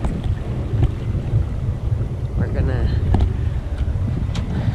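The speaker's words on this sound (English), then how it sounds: "We're sailing. No motor." Sailboat under sail alone with no motor running, heeled in a nice breeze with the wing sail set: steady loud wind rumble and water rush fill the clip, with faint voices and a few brief knocks mixed in.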